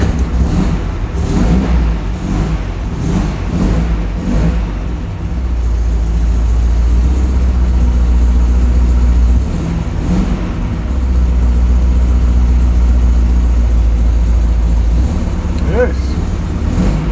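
A Renobug's engine, its choke disabled, turns over and settles into a steady low idle, with earlier revving bursts and a person talking over the rumble.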